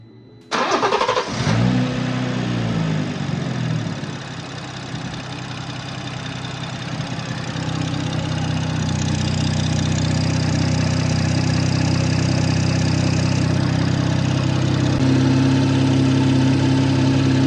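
A turbocharged 340 car engine cranks and fires up, then settles into a loud, steady idle that rises slightly and holds for the rest of the clip, close by and without voices.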